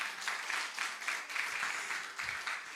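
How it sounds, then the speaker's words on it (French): Audience clapping at a steelpan audition, soft and somewhat distant, a loose scattered applause with gentle swells that keeps going throughout. "allez-y, je vous laisse applaudir."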